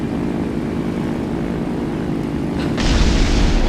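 Bombs exploding on a tank in a video game hit as a sudden loud, broad blast near the end, after a steady droning aircraft engine hum, with no talking.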